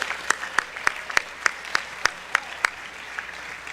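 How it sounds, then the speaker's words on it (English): Scattered clapping from an audience at an academy holiday dinner honoring team captains and MVPs, heard as a steady, evenly spaced rhythm of distinct claps over a soft background. "How about one more round of applause for our captains and our MVPs?"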